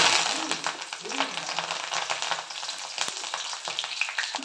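Snack ingredients such as curry leaves and crushed garlic fry in hot oil with a dense, continuous sizzle and crackle, close up, with faint stirring scrapes.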